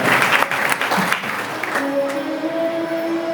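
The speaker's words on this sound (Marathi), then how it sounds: "अजून एकदा त्या लेकराचं जोरदार टाळ्या वाजवून." Enthusiastic clapping from an audience at a religious discourse honours a young girl's birthday, a short dense burst that quickly fades into a sustained steady tone.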